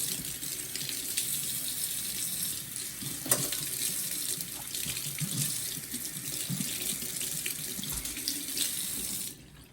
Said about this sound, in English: Just go ahead and rinse them in hot water.